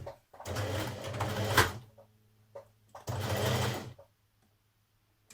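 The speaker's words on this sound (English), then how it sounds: "to sew along the shoulder seam" A sewing machine runs along the shoulder seam of a 1940s vintage-style blouse in two close, fairly loud bursts of about two seconds and one second, separated by a short pause and a brief click, then falls silent.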